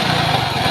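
Loud, steady, rough engine drone from a machine under repair with an abnormal running noise, continuous and close with a coarse pulsing rumble.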